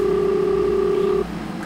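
Telephone ringing tone in the video game Five Nights at Wario's, a steady electronic tone held for over a second that cuts off abruptly, leaving a quieter background hum.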